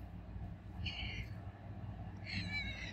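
A cat meows twice, short harmonic calls spaced a second or so apart, over a low steady background rumble.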